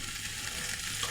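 Duck meat sizzles and fries steadily in a pan with ground spice paste, a continuous close hiss of frying and stirring with no voices.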